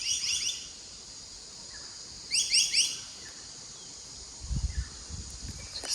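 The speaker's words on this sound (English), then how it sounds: "Just listening to the birds." Short bursts of high bird chirps, a few quick notes at the start and again in the middle, with a soft low thump later at a quiet campsite in Australia.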